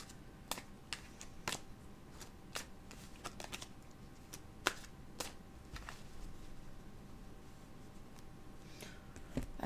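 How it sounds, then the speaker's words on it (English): Tarot cards being shuffled by hand, a run of crisp riffling and slapping bursts spread irregularly across the stretch, close and fairly quiet over a low room hum. "Let me shuffle these back in."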